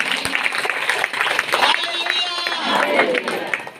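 Church congregation clapping loudly for Jesus during a Hindi-language worship service, dense sustained applause mixed with crowd voices and cheering throughout.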